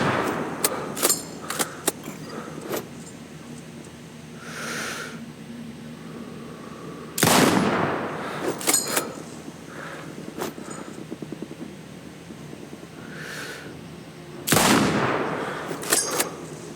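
Sniper rifle fire in the video game Sniper Ghost Warrior Contracts 2: three loud, sharp shots spaced several seconds apart, each with a long rolling echo, between quieter clicks and ambient game noise.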